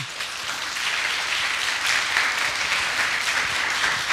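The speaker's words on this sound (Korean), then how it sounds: "박수 한번 쳐주십시오." Audience applause closing an international academic conference on BTS: broad, continuous clapping from a hall full of people, building a little after the start and holding steady, moderately loud, with no talk.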